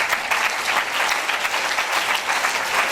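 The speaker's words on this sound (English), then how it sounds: "I think DCP deserve a round of applause for that." An audience at an official space programme launch event in Nigeria applauds, a dense, steady burst of clapping from many hands with no talk over it.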